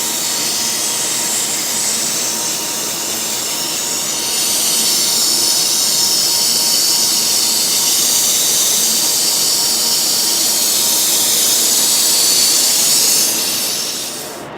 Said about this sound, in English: The first step is to fill the cylinders that will be used to sample the minute traces of